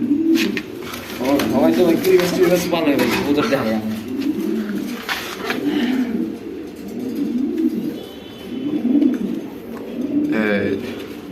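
Army breed pigeons cooing softly in a loft at a pigeon farm, repeated low throaty coos under ongoing conversation nearby.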